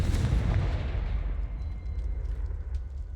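Confringo fire spell from a Hogwarts video game erupts in a loud, deep booming explosion at the start, then rumbles and decays over a few seconds, with faint crackling debris.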